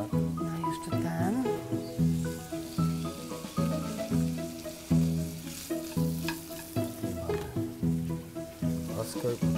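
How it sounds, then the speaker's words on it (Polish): Bacon tossed into a hot pan, frying with a crackling sizzle under repeated rhythmic clatter and scraping, loud and close, while people talk nearby. "I wrzucamy Boczuś. Już ładnie skwierczy."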